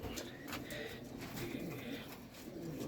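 Pigeons cooing softly nearby, low throaty calls repeating over a steady background hum.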